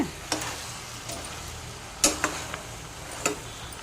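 Spoon stirring country chicken curry in a pan, a soft sizzle under a few sharp metallic taps and scrapes against the pan, close and otherwise quiet, with no talking.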